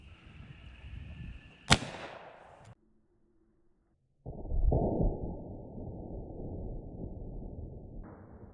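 A .45 Colt deep curl bullet fires into a Stretch Armstrong toy with one sharp, loud crack, followed by a brief ringing tail, a moment of near silence, then rustling handling noise.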